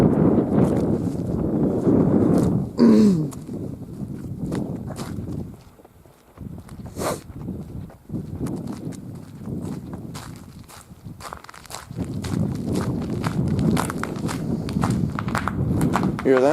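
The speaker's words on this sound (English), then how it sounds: "That's ice cracking underneath me." Footsteps crunch through snow, with ice cracking underfoot in short irregular bursts. A voice speaks over parts of it, and quieter pauses break up the walking.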